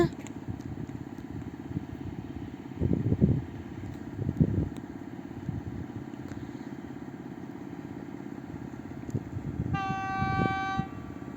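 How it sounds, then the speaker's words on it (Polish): The Zielonogórzanin passenger train rolls onto the main track at a station, a steady rumble of wagons and engine with louder surges, then a short multi-tone horn blast near the end. "będzie Zielonogórzanin wjeżdżał na tor zasadniczy, na tor pierwszy"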